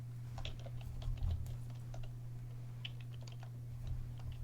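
Computer keys are tapped in quick, irregular bursts, fairly faint over a steady low electrical hum, with no one speaking.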